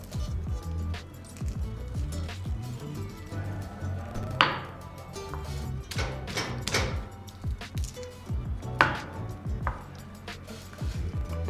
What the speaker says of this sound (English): You need to mash the garlic and then add it to the salad